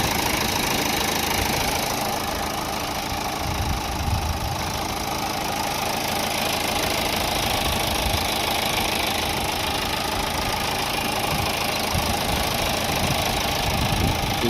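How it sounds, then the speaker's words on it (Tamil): A 2016 Toyota Etios car engine idling after a long drive, a steady close mechanical rumble with a faint knocking pulse running evenly throughout, no voices. "வண்டி ரன்னிங்கில் தான் இருக்குது."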